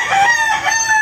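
A Papay Gray breed hen gives a single short, loud, close call lasting about a second, with no other sounds around it.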